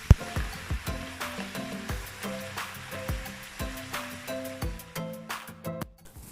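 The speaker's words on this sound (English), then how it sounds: "I'm still going to fry for another 5 minutes" Steady sizzling of yam frying in hot oil, with repeated clinks and scrapes of a utensil against the pan at a regular pace.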